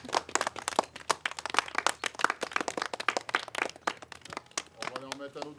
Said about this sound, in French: Bon, on applaudit.